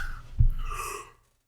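A tired person yawns once up close, a breathy, drawn-out exhale that swells and then fades to silence over about a second.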